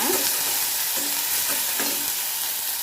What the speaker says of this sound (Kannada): ಸ್ವಲ್ಪ ಹೆಚ್ಕೊಂಡಿರೋ ಆಲೂಗಡ್ಡೆ ಕೂಡ ಹಾಕ್ಕೊಂಡು ಸ್ವಲ್ಪ ಒಂದು 2 ನಿಮಿಷ ಚೆನ್ನಾಗಿ ಬಾಡಿಸ್ಕೊಳ್ಳೋಣ